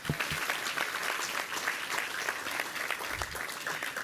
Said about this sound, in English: if you'll help me give him a round of applause as well